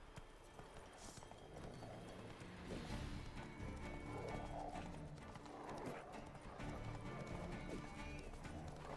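Horse hooves clop steadily at a riding pace in The Witcher 3, a continuous rhythmic trot mixed with game ambience and music, fairly quiet overall.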